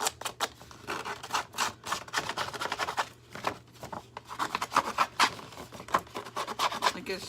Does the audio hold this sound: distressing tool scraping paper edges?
yes